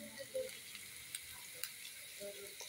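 Noodles frying in a home pan while being stirred give soft, quiet sizzling with faint scraping clicks, fairly steady with a few brief stirring knocks.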